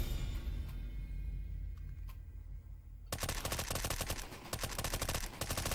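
Automatic rifle fire in CS:GO, loud rapid bursts that start after a few seconds of quiet ambience and a couple of faint clicks, dense and close.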